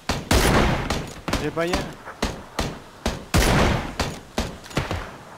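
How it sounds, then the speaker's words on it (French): Sharp gunshots from the video game PUBG fire in a rapid, evenly spaced string, loud and close, while players speak briefly among them. "j'ai tiré trois fois dessus"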